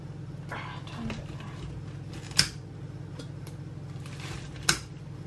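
Two sharp metallic snips of scissors a couple of seconds apart, over low background hum and faint handling noise.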